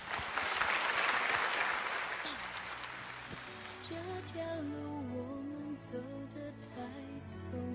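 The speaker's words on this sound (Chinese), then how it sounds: "我们掌声也给他们，好不好？" Audience applause at a televised opera stage show: a loud burst of clapping for about three seconds that fades out as stage music and singing take over.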